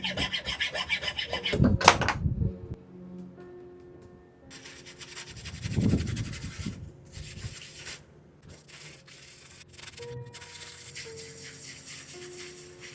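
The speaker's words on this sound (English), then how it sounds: "we've got our hacksaw, and we're gonna go ahead and cut this." A hacksaw cuts through a carbon fiber bicycle steer tube with a rasping, scratchy stroke sound, loud at first and then fainter and steadier, close up with no talking.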